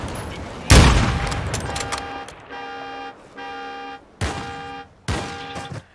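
Gunfire in Call of Duty Warzone 2.0: one loud burst followed by separate tonal blasts that could be vehicle honks or shots, ending in two sharp hits, nearby and without speech.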